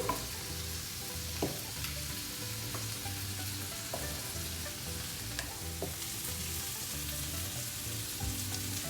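Steady sizzling and crackling of masala paste frying in a pan for butter chicken, with occasional soft stirring clinks, continuous and close, no voices.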